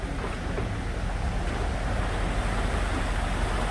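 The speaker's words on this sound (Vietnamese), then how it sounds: "Cái thác nước đó anh." Steady broadband rushing roar of a distant waterfall amid trees, streams and fish-filled water seen from a tractor-pulled ride, continuous and fairly loud with a wind-like wash.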